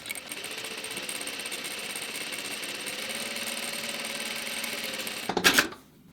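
A sewing machine stitches with its reverse stitching lever in use, giving a steady close mechanical whir and rapid needle clatter that runs evenly, then ends in a brief louder burst and stops.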